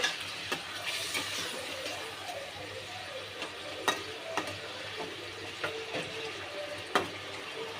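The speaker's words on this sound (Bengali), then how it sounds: "এবার আমি চিংড়ি মাছগুলো দিয়ে দেবো। দিয়ে একটু নেড়ে নেব।" Prawns stirred in a pot of boiling liquid, with a steady bubbling simmer and a few sharp scrapes and knocks of a spoon against the pot at irregular intervals.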